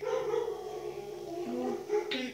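Dog barking off to the side during mobile Minecraft play, brief yips under steady voices and game sound.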